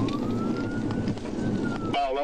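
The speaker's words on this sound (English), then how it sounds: "Why the siren sound like a Mario game?" A police car siren rises in a slow sweeping wail through a loud, noisy pursuit scene, then breaks into a rapid warbling yelp near the end, with voices talking underneath.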